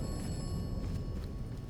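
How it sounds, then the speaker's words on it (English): A telephone rings inside a phone booth in the video game Atomfall. The bell trills continuously and steadily at moderate volume with no speech over it. "Phone ringing."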